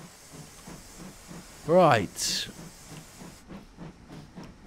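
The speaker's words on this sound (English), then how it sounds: "it's actually nice to run the tank engine on the Little Rock Railway for once" A steam tank engine, the 14XX on the Little Rock Railway in Train Simulator 2021, gives a short whistle-like chime then a loud burst of hissing steam over steady rhythmic chuffing; a voice speaks briefly.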